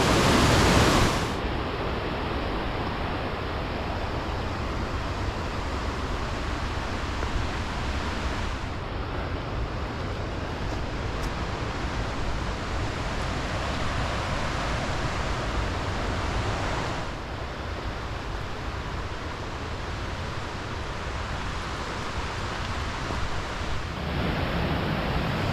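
Rushing stream water roars steadily through a canyon on a June hike, a loud, continuous broadband wash that barely changes for the whole stretch, with no voices.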